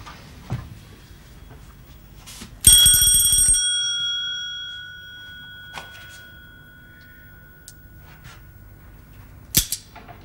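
A bell rung as a signal in a studio drama gives one loud ring that decays slowly over about a second. Faint clicks and room noise come before and after it.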